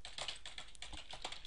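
Quick keystrokes on a computer keyboard, a close, fairly quiet run of light clicks and taps in an irregular rhythm with no talking.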